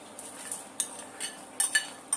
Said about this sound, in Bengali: দিয়ে দিচ্ছি কিশমিশ আর ভেজে রাখা সবজিগুলো এখন দিয়ে দিচ্ছি।